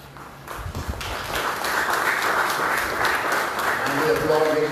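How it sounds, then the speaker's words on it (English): Applause from an audience at a blessing ceremony for the restored St. John of God Convent in Goa, a steady broadband patter of clapping with a hum of voices underneath and speech starting near the end. "And we applaud, ladies and gentlemen."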